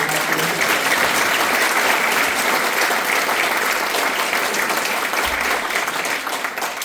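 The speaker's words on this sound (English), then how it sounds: "Could I get a round of applause for the parents too?" A graduation audience applauds the parents with dense, sustained clapping that fills the hall steadily for several seconds and eases slightly at the end.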